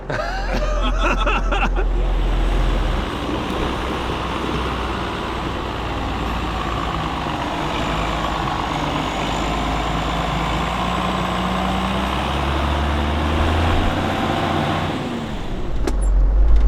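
A slurry truck's engine drones steadily up close as it is driven, with a continuous low rumble and mechanical rattle running the whole time with no talking.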